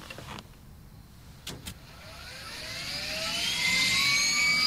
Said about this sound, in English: I'm in the chopper.